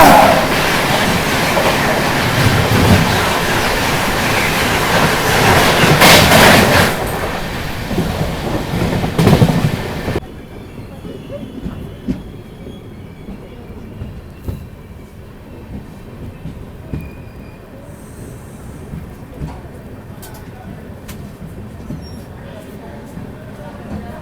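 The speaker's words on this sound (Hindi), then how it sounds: "अभी आ रही है अजमेर नई दिल्ली शताब्दी एक्सप्रेस" Ajmer–New Delhi Shatabdi Express rushing past at close range near Alwar Junction in Rajasthan, a loud dense roar of rolling wheels and rushing air that cuts off abruptly, leaving quieter rail rumble and scattered clicks.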